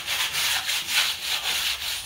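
Part for a homemade teardrop camper trailer is being hand-sanded, a close, steady dry rubbing in quick back-and-forth strokes, about eight regular passes with no voices.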